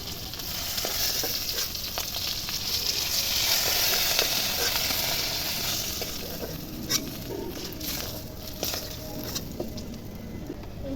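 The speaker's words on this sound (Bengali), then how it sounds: "তেলের মধ্যেই আলুটা ভেজে নেবো" Steady, loud sizzling of potatoes frying in hot oil, with crackles and pops scattered throughout and no talking.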